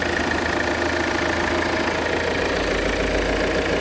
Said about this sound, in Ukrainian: Двигунчик тут працює, як я наголошую, як швейцарський годинничок.